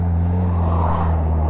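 A Honda CBR600RR motorcycle cruising steadily on a relaxed ride, with a loud continuous engine drone and wind rumble from the rider's position.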